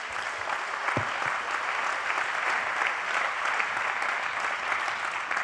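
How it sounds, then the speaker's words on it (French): A seated audience at an official launch session applauds two guests, a dense, sustained wash of clapping with no voices over it. "Applaudissements pour eux, s'il vous plaît."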